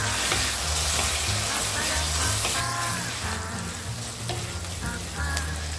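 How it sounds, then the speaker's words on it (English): Tomato and turmeric sizzle steadily in a hot pan for an eggplant bharta, a continuous close frying crackle with occasional stirring scrapes, no voices. "Fry till the tomato softens."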